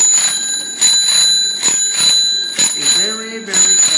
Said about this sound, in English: This one, another fire truck, is this one with emerging lights, and a siren